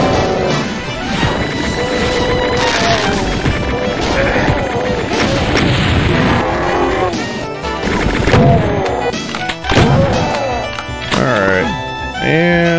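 Punches land on a Baron of Hell in Doom 2 amid dense game action: repeated smashing thwacks and crashes, monster growls and roars, loud and busy throughout with brief quieter gaps.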